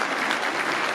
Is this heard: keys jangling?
no